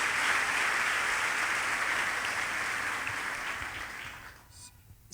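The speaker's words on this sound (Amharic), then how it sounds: "አጨብጭቡለት እስቲ ለዚህ ጌታ" A church congregation claps together in sustained, dense applause that holds steady for several seconds, then thins out and dies away near the end.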